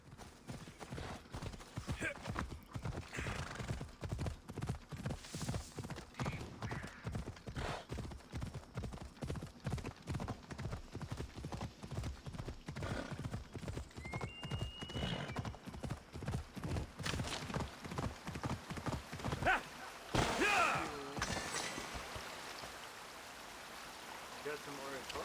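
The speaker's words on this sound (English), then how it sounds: "Okay, you were riding a horse." Hooves of the horse Phobos clip-clop in a steady, rhythmic gallop in the video game Assassin's Creed Odyssey, close and continuous, with running water trickling beneath and a brief burst of other noise near the end.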